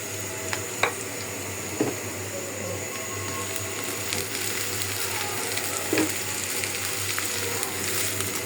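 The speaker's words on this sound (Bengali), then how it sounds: "ভাপ দিয়ে রাখা পুঁই শাক দিয়ে দিলাম।" Steamed Malabar spinach fries in a pan with onion and garlic, a steady close sizzle running throughout with a few sharp utensil clinks and stirs and no talking.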